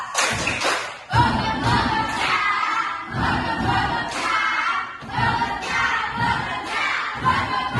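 A school class of children claps the tepuk bogerca chant together, rhythmic bursts of group clapping and shouted chanting in several loud phrases, separated by brief breaks.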